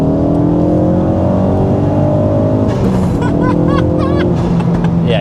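A Ford Focus RS Mk3 Edition accelerates hard from inside the cabin, the engine note climbing steadily and loudly through the gears with a constant roar, while a voice briefly speaks over it.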